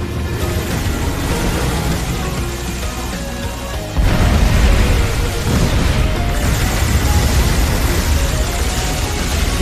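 Cannon fire in an animated space battle, a dense, continuous roar of blasts that suddenly grows heavier and louder partway through, with layered booms and rumbling.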